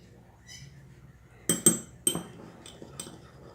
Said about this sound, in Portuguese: Aí você vai pegar 2 colheres de sobremesa de sal, colher rasa